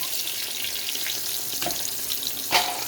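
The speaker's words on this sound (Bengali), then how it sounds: "কাঁচকলার মধ্যে অল্প নুন দিয়ে একটু ভেজে তুলে নেব" Raw banana pieces fry in salted oil with a bright, hissing sizzle up close, and two sharp scrapes of a spatula cut through the bubbling.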